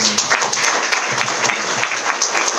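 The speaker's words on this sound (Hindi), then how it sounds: "मैं चाहता हूं एक जोरदार तालियां हो" Loud, sustained applause from a business-seminar audience welcoming a guest, dense clapping that stays even from start to finish with no voices on top.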